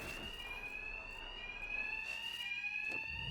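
A steady electronic alarm rings in Batman: Arkham Knight, a high piercing tone with pulsing repetition and faint background game noise beneath it, continuous across the whole stretch with no speech.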